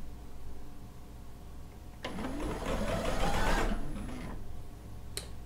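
A sewing machine runs steadily for about two seconds while stitching a seam on a quilt top, a close continuous motorized whir rising slightly in pitch, with a quiet ambient hum before and after.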